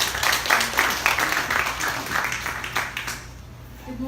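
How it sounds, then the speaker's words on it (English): Audience applause at a computer-delivered IELTS launch event: a steady wash of many hands clapping, fairly loud at first, then thinning out and fading toward the end. "Let us give her a warm round of applause."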